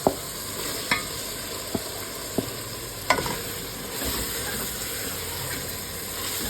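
Taro root (arvi) sizzles and fries in masala in a pan, a dense, steady hiss with a few sharp scraping knocks of a spoon as it is stirred, close and fairly loud, with no talk.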